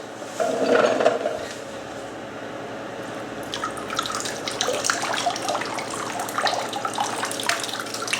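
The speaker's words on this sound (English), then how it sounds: "Wow, a lot of water pours out of the inside here where the actual light folds into." Water pours and splashes out of a Bell + Howell Taclight LED lantern as it is lifted from a water test, a steady close gush and trickle that runs the whole time with drips along the way.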